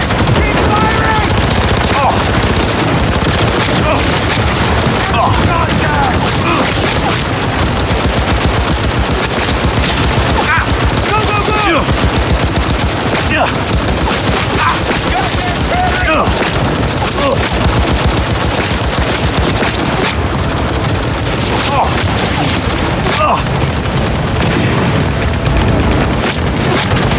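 Dense, continuous automatic gunfire and booming blasts from the video game Cyberpunk 2077 roar without pause, very loud and saturated, with a voice half-buried beneath the shooting.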